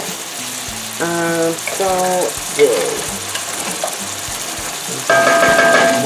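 Chopped vegetables sizzle steadily in a hot pan during meal prep, a continuous crackling fry close by with brief bursts of talk and a voice speaking over it.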